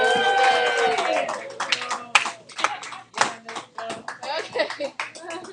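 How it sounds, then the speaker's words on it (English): Students in a high school algebra classroom clapping for a teacher, a loose burst of scattered hand claps mixed with kids' chatter and voices, fairly close and uneven. "Everybody give Miss Jones a round of applause"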